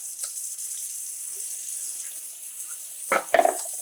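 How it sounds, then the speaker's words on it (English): Water from a tap runs into a sink while hands are rinsed under it, a soft steady flow that swells into brief louder splashes near the end; no talking. "Let me wash my hands here."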